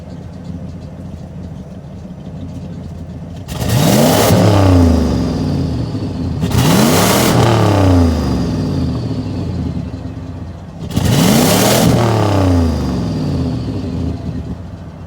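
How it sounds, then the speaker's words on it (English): A Ford F-150 pickup with its old muffler revs through the exhaust three times, each close, loud blip rising sharply then falling back to a rumbling idle between. "Just a little exhaust clip, you know, before I put the new muffler on it."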